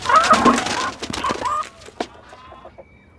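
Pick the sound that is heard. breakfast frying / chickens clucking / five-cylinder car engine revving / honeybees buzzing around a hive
chickens clucking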